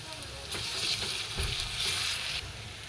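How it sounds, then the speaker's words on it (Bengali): Garlic fries in a pan alongside nearly browned onion, giving a continuous near sizzle that swells in the middle with faint stirring scrapes. "রসুনটা একটু ভেজে নেব"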